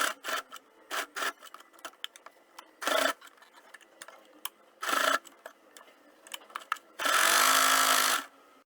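A home sewing machine stitches a double-folded fabric sleeve hem in short, separate bursts of whirring, with one longer steady run near the end and quiet gaps in between.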